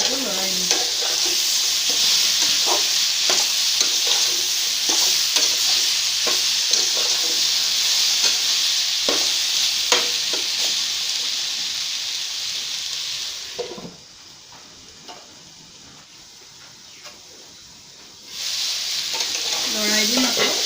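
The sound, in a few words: stirring tomatoes frying in a pan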